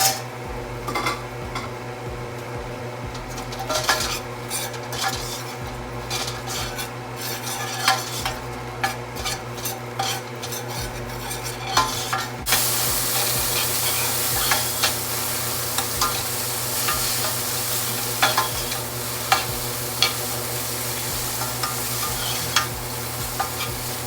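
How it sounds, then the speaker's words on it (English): Abacha, a Nigerian Igbo village dish with crayfish, stirred and fried in a pot: continuous sizzling with repeated scraping and clinking of a utensil against the pan, close and steady throughout. "Keep frying."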